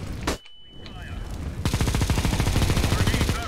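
A Negev machine gun in the shooter game CS:GO opens up with a long, rapid, evenly spaced stream of loud shots. A brief crack and a quiet pause come first.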